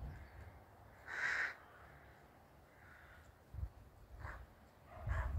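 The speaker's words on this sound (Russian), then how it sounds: "Вон там ворона." A crow caws several times at a distance outdoors, with a pair of calls early and more toward the end, faint and separated by quiet gaps with light ambient noise.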